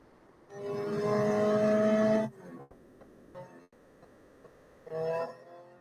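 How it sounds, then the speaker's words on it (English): Racing-game car engine in Real Racing 3 straining at its top speed, a loud harsh tonal drone held for under two seconds before cutting off, then quieter clicks and a second brief engine surge. "when it hits its max speed, boy, does that engine sound bad."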